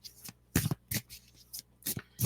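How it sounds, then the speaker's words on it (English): A deck of tarot cards being shuffled by hand, close and crisp, in a series of quick riffling bursts separated by short pauses, with no talking. "We're going to shuffle"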